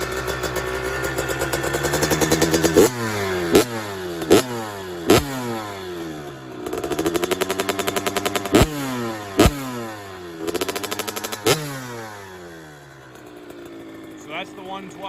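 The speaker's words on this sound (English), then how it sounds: "So that's the 112. She sounds good." Super-mini dirt bike with a 112 engine running nearby, a loud buzzing two-stroke-style idle broken by repeated sharp throttle blips that rise and fall in pitch, with someone talking over it.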